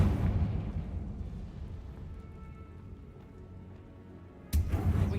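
A Confringo spell blast in the game Hogwarts Legacy, a loud low rumbling explosion that fades slowly, then a second sharp burst near the end.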